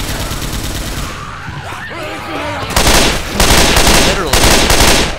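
A big gun in Left 4 Dead 2 fires in rapid, loud bursts that grow heavier in the second half, while a player speaks briefly over the shooting.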